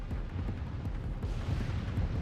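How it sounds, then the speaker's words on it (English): A missile barrage in Armored Core 6 erupts as a continuous rolling roar of distant explosions, deep rumbling booms blending into one another with no voices. "Missile launch sequence complete, Chief."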